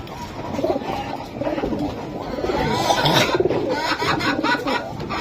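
Pigeons coo repeatedly at a bustling Bengali pigeon market, their throaty calls layered over a dense murmur of nearby crowd noise and chatter, growing fuller and louder midway.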